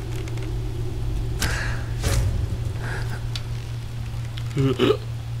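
A character in the video game Skyrim hiccups a few times, short abrupt bursts over steady game ambience, with a cluster near the end.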